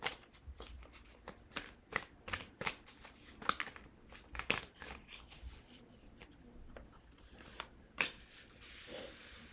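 Tarot cards are shuffled and handled close up, giving a run of crisp, uneven riffles, flicks and taps, some sharper than others, with no talking.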